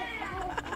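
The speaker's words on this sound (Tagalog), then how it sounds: "Nag-aaway nga yung pusa." Cats fight with a drawn-out, wavering yowl, heard clearly for under a second against background hum and faint talk.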